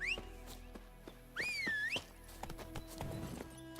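Hooves of Roach, a horse in the game The Witcher 3, clip-clopping in a steady quick rhythm, soft and close, with a couple of bright rising whistles sounding over them.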